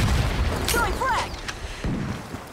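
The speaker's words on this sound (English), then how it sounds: "Throwing frag!" A frag grenade explosion in Ironsight, a muffled boom over steady battlefield noise, with a brief voice and some whistling chirps around it.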